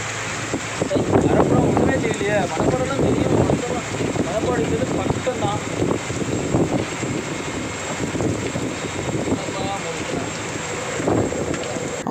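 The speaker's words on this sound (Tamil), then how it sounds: "போயிட்டு இருக்க போகும்போது தான் இப்போ சரியான கனமழை வந்து பெஞ்சிட்டு இருக்குது." Heavy rain falling at sea on a deep-sea fishing boat makes a dense, steady wash of noise, mixed with wind buffeting and water movement across the whole stretch.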